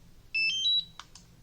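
A DJI Mavic Mini remote controller powers on with a short run of bright electronic beeps, a quick rising tone pattern, fairly close and clear over a faint, quiet room hum.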